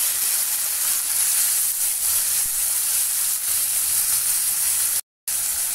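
Curry leaves, onion, garlic and tomato sizzle in hot oil with a steady, dense hiss that holds close and even before cutting out briefly near the end.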